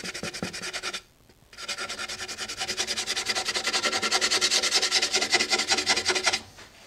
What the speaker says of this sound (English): I'll just sand that off